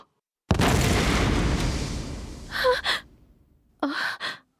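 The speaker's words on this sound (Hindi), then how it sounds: "तुम्हें किसी धमाके की आवाज सुनाई दी या बस मेरा वहम था?" A sudden loud explosion in a cartoon: a blast with a long rumbling decay that fades over a couple of seconds, followed by short gasping breaths.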